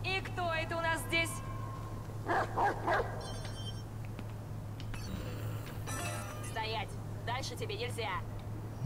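A dog barks and yips in Watch Dogs 2, several short bursts scattered across a steady low hum of game ambience, with a voice briefly heard between the barks.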